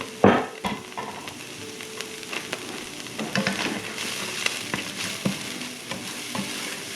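Garlic cloves and half an onion frying in a pan, a steady close sizzle with crackles and a few scraping stirs and clanks, loud at the start, then a continuous hiss.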